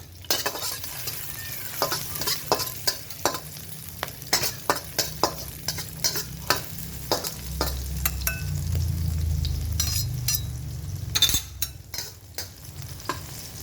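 Ingredients for a Thai stir-fry of luffa gourd with pork and shrimp are stir-fried in a little oil over medium heat, with steady sizzling and frequent sharp scrapes and clinks of the spatula against the pan.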